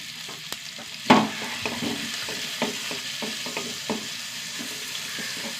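Crushed small shallots, garlic and green chilies fry in hot oil with a steady close sizzle, marked by a sharp clatter near the start and several spoon scrapes and knocks as the pan is stirred.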